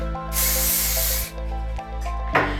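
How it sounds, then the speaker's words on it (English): A few short bursts of hair spray hiss close by onto a brush, a long one first and then quicker puffs, over a steady low hum. "I'm going to spray directly onto the brush"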